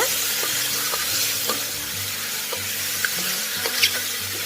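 Half a kilo of chicken with onion is stirred and mixed in a pot, giving a wet sizzle with repeated scraping and clacking stirring strokes, close and steady without talk.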